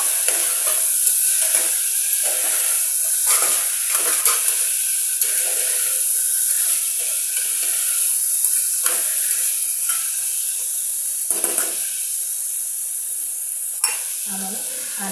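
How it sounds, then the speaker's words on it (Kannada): Vegetables fry in oil, a loud, close, continuous sizzle and hiss marked by scattered crackles and the occasional scrape of stirring throughout. "ಚೆನ್ನಾಗಿ ಎಣ್ಣೆಗೆ ಎಲ್ಲ ತರಕಾರಿಗಳು ಫ್ರೈ ಆಗಬೇಕು"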